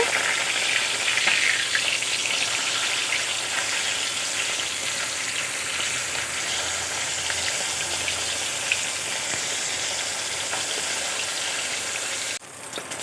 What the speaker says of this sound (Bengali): মাছের এক সাইড ভাজা হয়ে গেছে, উল্টিয়ে দেব। এই সাইডটাও ভালো করে ভেজে নেব।